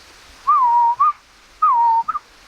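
A person whistles a bird's call, imitating it in two matching phrases, each a long falling note followed by a short upward flick, clear and close with no other sound.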